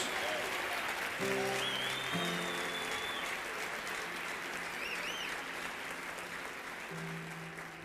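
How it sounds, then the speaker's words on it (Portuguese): A church congregation applauds during a service, with loud, steady clapping filling the whole stretch and a few sustained musical tones sounding beneath it. "aplauda melhor o nome do Senhor Jesus."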